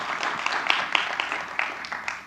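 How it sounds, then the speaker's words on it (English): An audience claps after a talk on the metacognitive roots of confirmation bias, a steady patter of many hands with a few sharper claps standing out, moderately distant and without speech. "let's give him another round of applause"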